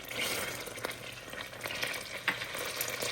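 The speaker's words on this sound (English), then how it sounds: "I can hear my butter popping in there" Butter pops and sizzles inside a pot, a continuous close fizzing hiss with scattered sharp crackling pops, no talking.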